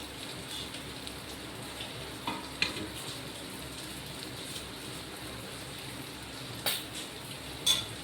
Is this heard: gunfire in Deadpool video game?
no